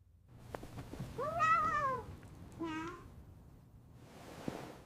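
A cat meows twice nearby, a long drawn-out mew followed by a shorter one, over a quiet room with faint soft clicks.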